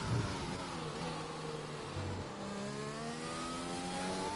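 A Mercedes race car engine in a sim racing game at Bahrain sounds a steady, moderately faint whine whose pitch climbs through the gears as it accelerates.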